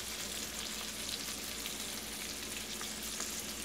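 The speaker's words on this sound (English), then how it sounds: "Yeah, you hear that? Sizzles." Chicken breasts sizzle in a pan of olive oil and butter, a steady, close, crackling hiss that carries on evenly throughout with no talking.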